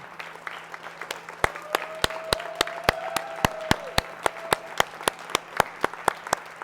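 An audience at the Oneonta, NY State of the City 2025 event applauds the standing city staff: a run of evenly spaced sharp claps over a low steady hum, fairly close and moderately loud.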